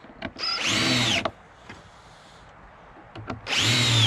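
A power drill drives screws into wood, two loud whirring bursts of about a second each separated by a quieter pause with faint knocks.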